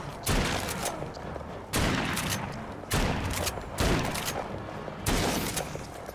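A revolver fires in The Walking Dead VR video game, giving about five sharp, loud shots at uneven intervals, each trailing into a brief echoing decay.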